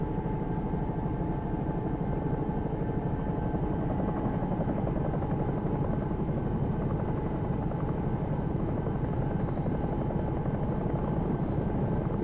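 A Bell 222 air ambulance helicopter lifting off in the X-Plane 11 flight simulator, a loud, constant rotor thump and turbine drone, steady throughout with no talking.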